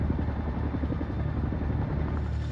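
A Chinook military helicopter in flight gives a steady, heavy rotor thump and engine rumble, loud and continuous with no voices.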